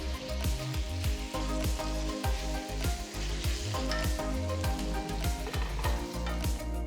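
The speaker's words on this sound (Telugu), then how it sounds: "తరిగిన 2 టొమాటోలు, చీల్చిన 2 పచ్చిమిరపకాయల్ని కూడా వేసి వేయించాలి." Tomatoes, slit green chillies and ginger-garlic paste fry loudly in a kadai for kadai chicken, a dense continuous sizzle broken by steady rhythmic scrapes and taps of a stirring spoon, close and alone with no voices.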